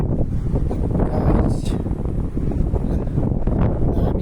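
Wind blows through a park in steady, loud gusts that buffet the microphone, with a broad rushing roar and some rustling.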